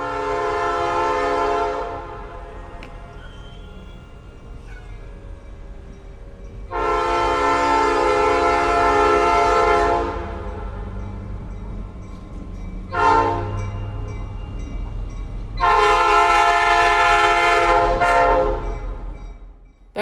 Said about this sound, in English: That's the train my friend Bill worked on as a conductor and car host